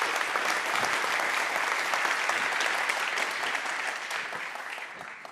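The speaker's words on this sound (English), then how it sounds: "give him a big round of applause" Audience applause at a developer conference, a dense wash of clapping from a crowd that holds steady and then gradually tapers off near the end.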